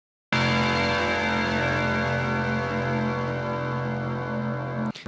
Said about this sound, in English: one last bell tone by Aeronautics to give it a symmetric ending